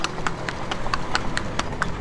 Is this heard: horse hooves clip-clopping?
yes